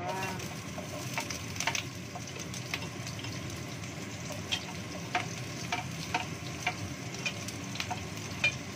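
Onions stirred and fried in a pan, giving a steady sizzle with a spatula scraping and clicking intermittently throughout, heard close with no talk.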